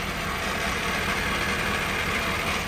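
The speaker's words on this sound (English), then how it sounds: "You have the standard PTO chatter" Ford F-550 crane truck's 6.7 Powerstroke diesel idling with its PTO engaged, giving a steady, close rumbling drone with a faint rattly chatter running throughout.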